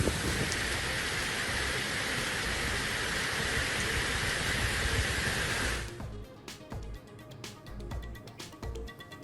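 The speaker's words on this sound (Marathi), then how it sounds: "रत्नागिरीच्या मंडणगडमध्ये मुसळधार पाऊस।" Heavy monsoon rain pours in Mandangad, Ratnagiri, making a loud, dense, even roar for about six seconds before it cuts to scattered sharper drips and splashes.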